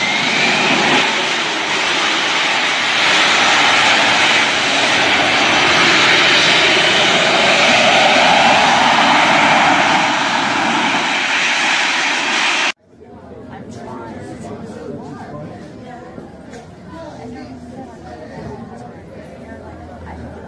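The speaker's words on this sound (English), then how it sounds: "This plane takes off vertically." A vertical takeoff jet plane's engine roars loudly and steadily for a long stretch, then cuts off abruptly to a quieter scene with distant voices chattering.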